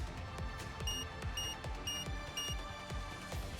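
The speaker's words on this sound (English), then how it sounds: "The excavation bomb." Repeated electronic alarm beeping from the excavation bomb in the video game Nikke: Goddess of Victory, with short high-pitched tones pulsing in a steady rhythm over a low rumbling game soundtrack.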